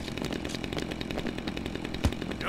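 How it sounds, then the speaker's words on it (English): Chainsaw in Dead Rising 2, a steady buzzing engine whine running continuously at close range, with a brief low thump near the end and no voices. "Chainsaw!"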